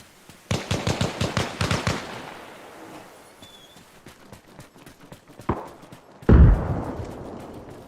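Rapid automatic gunfire in Arma Reforger aimed at a friendly BTR armored vehicle, a fast burst of sharp cracks followed by scattered single shots and a loud closer blast near the end.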